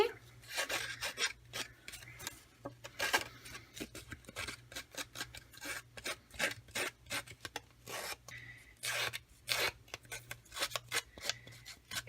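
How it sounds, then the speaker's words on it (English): Three pieces of paper have their edges distressed for a layered burlap card, giving close, repeated rasping and scraping strokes in an uneven rhythm, heard alone without talk. "I want to distress the edges of my 3 pieces of paper."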